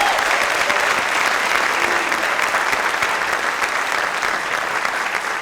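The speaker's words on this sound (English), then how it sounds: "I think we all owe her a round of applause" A crowd claps steadily in sustained applause, dense and even throughout, filling the room without any talking on top.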